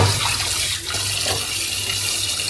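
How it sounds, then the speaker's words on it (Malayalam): Water runs steadily from a tap during washing, a loud, close, continuous splashing rush with no talk. "വെള്ളം അടിക്കുന്നുണ്ട്."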